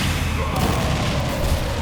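Gunfire from Joker's guns in Super Smash Bros. Ultimate, a dense run of rapid booming shots over a loud, busy game mix with no clear pauses, close and sustained.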